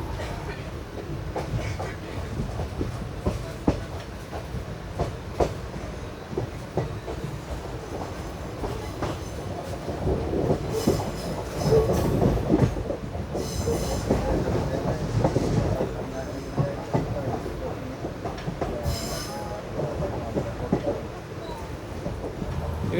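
The Mangaluru Mumbai Superfast Express runs along the line, heard from on board as continuous rail rumble with rhythmic wheel clatter and brief squeals, while a voice talks over it.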